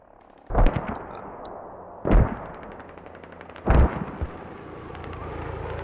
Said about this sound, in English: I'm mortaring south.